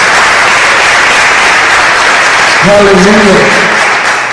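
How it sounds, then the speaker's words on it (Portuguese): A church youth camp crowd gives loud, sustained applause, a dense wash of clapping that fills the whole stretch while a voice calls out over it. "Dê um aplauso ao Senhor."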